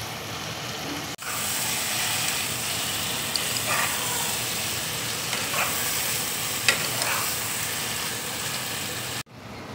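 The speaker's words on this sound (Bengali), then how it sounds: "এবার দেখো ফুলকপিটা আমি দিয়ে দিচ্ছি।" Cauliflower florets frying in a pan of spiced oil give a steady, close sizzle throughout, broken by a few soft stirring scrapes and brief clicks, with no one talking.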